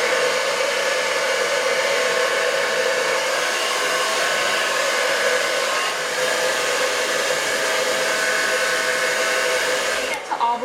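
A hair dryer blow-drying straightened hair roars in a loud, steady, close whoosh that runs unbroken for about ten seconds, then cuts off abruptly at the end.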